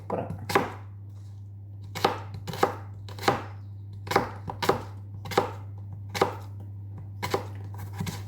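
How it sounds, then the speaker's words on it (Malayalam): A knife chops vegetables on a cutting board, the prep for a homemade pickle. The blade lands in sharp, distinct strokes, roughly a dozen of them, at an irregular pace over a low steady hum, with no talking. "അപ്പോൾ ഇതുപോലെ ബാക്കിയും കൂടെ ഒന്ന് കട്ട് ചെയ്തെടുക്കട്ടോ കേട്ടോ"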